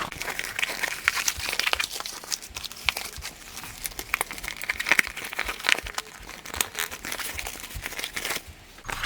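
A sewn fabric mini tote bag is turned right side out, with close, irregular rustling and crinkling handling sounds coming in bursts, no speech.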